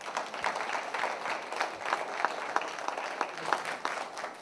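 An audience at a political rally for Senator D Burt claps in sustained applause, a dense crackle of many hands that swells and dips slightly over several seconds.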